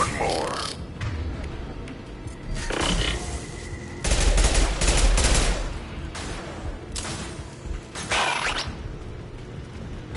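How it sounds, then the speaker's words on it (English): Rifle fire in Mass Effect 2 comes as several bursts of sharp, loud shots separated by short pauses, with combat noise and effects around them. "I love this rifle. One more."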